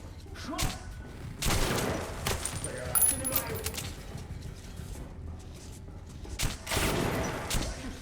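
Gunfire from weapons in the video game Metro Last Light comes in scattered bursts and single shots, moderately loud, with metallic clinks and thuds between them.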